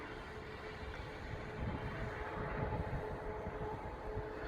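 A prototype agricultural drone in rotary-wing setup flies laps over a field, giving a steady, moderately distant droning hum that swells slightly midway, with no talking.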